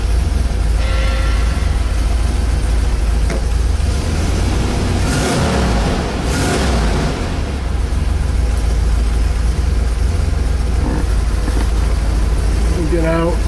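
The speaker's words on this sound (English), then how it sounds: "Get out, hear the engine" A 1965 Corvette with a numbers-matching engine after a nut-and-bolt chassis restoration, its engine running at a steady idle in neutral, a continuous low rumble close by with a few brief louder swells.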